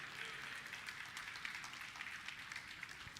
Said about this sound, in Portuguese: Você pode dar um aplauso a Ele e dizer glória a Deus?